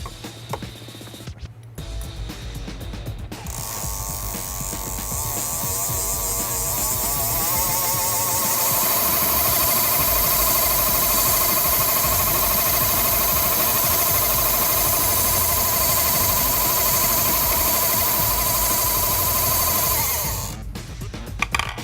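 A fishing line spooling machine winds backing onto a reel, its steady motorized whir rising after a few seconds and holding loud and constant for most of the stretch before winding down, with no talk over it.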